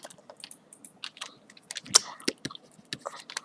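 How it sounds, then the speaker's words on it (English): Close, wet crunching and smacking of someone chewing food, irregular bites with a few sharper crunches, no talking. "Sorry, I'm eating."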